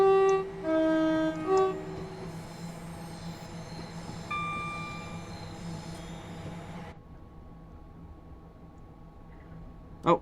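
Class 380 Desiro electric multiple unit under light power in Train Sim World 4, with a steady motor whine and rolling rumble, high tonal tones stepping early, then the drone thinning out near the end with a final clunk.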